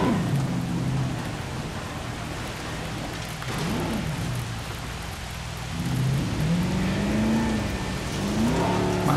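Rain falls steadily during a storm in the video game Jurassic World Evolution, with a few rumbles and an engine-like tone that rises and falls. The wash stays loud and constant and no one speaks over it.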